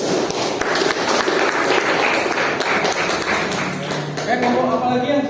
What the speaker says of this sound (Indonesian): Kita beri aplaus dulu untuk temannya.